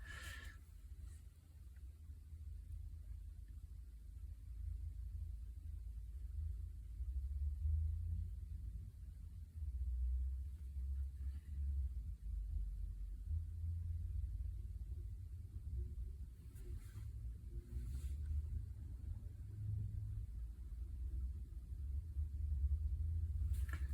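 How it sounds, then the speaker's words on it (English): A low, steady engine rumble from a truck turning a corner outside, muffled and continuous, rising and falling slightly as it moves, with no voices. "There's this truck outside and it's turning a corner"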